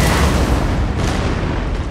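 A volley of musket fire from line infantry troops in the Empire: Total War strategy game, heard as a loud, dense, sustained burst of booming gunfire with no pauses.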